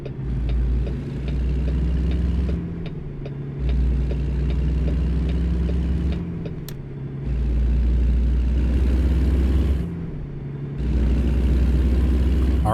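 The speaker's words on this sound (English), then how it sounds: "now we have the absolute behemoth power of our engine. It'll let us accelerate at light speed" A Kenworth W900 truck in American Truck Simulator, its heavy diesel engine droning low and steady while it accelerates through several gear changes, each shift briefly dropping the revs before the rumble climbs again.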